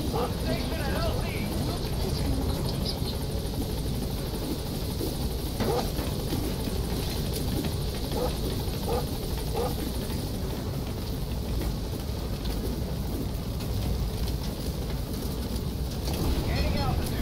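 The B-Quad support helicopter in Metal Gear Solid V hovers at a landing zone with a steady, droning rotor roar, while a voice speaks over radio throughout.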